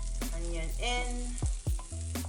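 Onion frying in butter in a pan, a steady close sizzle with a few scraping stirs and clacks of the spoon partway through, no voices.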